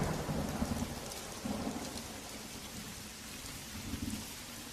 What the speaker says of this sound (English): And the rain began to fall.